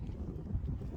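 Low, rumbling buffeting of wind hitting a microphone outdoors beside a high-mileage Ford car, a brief burst of muffled gusty noise.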